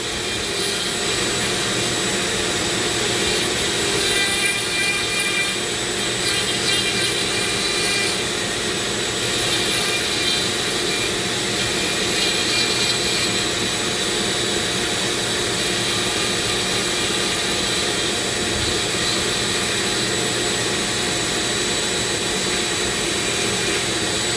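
A Dremel rotary tool spinning at about 20,000 RPM carves a wooden rattlesnake, giving a steady, loud high-pitched whine that runs without a break through the whole stretch.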